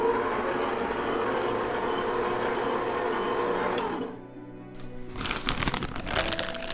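An electric mixer beats a vegan cake batter of almond flour, rum and all-purpose flour, a steady whirring drone that dips briefly and then returns with rougher, clattering bursts.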